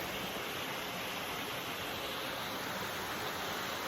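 River water rushes steadily at a canyon river crossing, a dense, constant broadband roar with no pauses, close and loud, with no voices.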